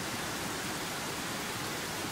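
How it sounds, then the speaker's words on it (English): Roaring waterfalls make a steady, dense broadband rush, constant and unbroken with no talk over it. "they can't hear me because the waterfalls are too loud"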